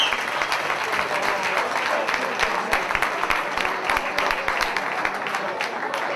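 Stadium spectators applaud at a football match between Iran's youth national team and Italy, a dense, sustained wall of clapping and crowd noise that holds steady throughout.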